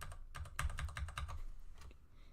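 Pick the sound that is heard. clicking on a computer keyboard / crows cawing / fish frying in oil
clicking on a computer keyboard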